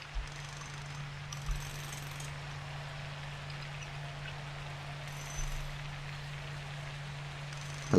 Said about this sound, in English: I love the rain. It's great.